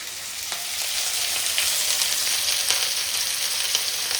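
Fish frying in hot oil over a wood-fired stove: continuous crackling sizzle with scattered sharp pops and spits over a steady hiss; no voices.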